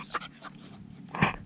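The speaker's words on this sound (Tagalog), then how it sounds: "Nainip na yung mga aso." Impatient dogs whimpering, with a few short, faint whines and yelps scattered across a brief quiet moment.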